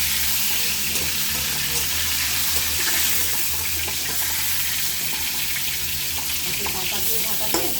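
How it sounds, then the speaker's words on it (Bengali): Pieces of pointed gourd sizzle and fry in mustard oil in a wok, making a loud, steady hiss that runs without a break from start to finish. "এবার আমি এক এক করে পটলগুলো এখানে ভাজবো, খুব হালকা করে পটলগুলো ভাজতে হবে।"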